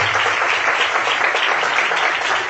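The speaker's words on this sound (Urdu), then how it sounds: "اپنے لیے تھوڑی سی ذرا تالیاں بجا لیں" Dense, steady clapping from a studio audience applauding for themselves, a continuous wash of many hands at close range with no voices over it.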